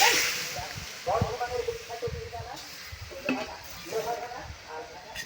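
Mango pulp is stirred in a wok over a fire, with slow scraping strokes and soft thick squelches repeating every second or so, close up with a faint hiss.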